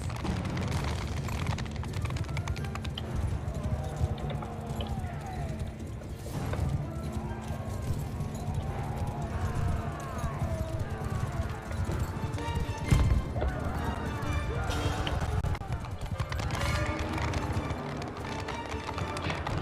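Cavalry horses gallop in a Mount and Blade II: Bannerlord battle, with a steady, dense clatter of hooves running under a busy roar of combat, whinnies and shouting, and one sharp impact standing out midway.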